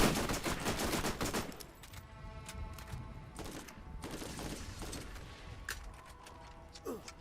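Gunfire in the video game Borderlands 1, a loud burst of rapid shots at the start followed by scattered single shots and mechanical clanks, with game effects underneath.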